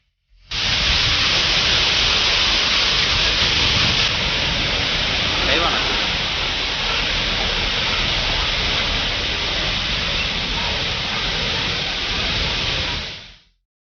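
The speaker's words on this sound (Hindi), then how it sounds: "केरल के बांधों से पानी लगातार छोड़ा जा रहा है" Floodwater released from dams in Kerala during heavy monsoon flooding rushes in a loud, steady broadband roar that holds unbroken for about thirteen seconds, close and powerful with no voices.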